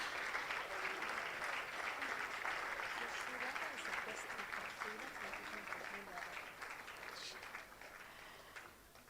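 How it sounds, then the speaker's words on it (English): An audience at an entrepreneurship festival pitching event gives a resounding round of applause, a dense wash of clapping that holds strong and then gradually tapers off, with some voices mixed in. "A resounding round of applause."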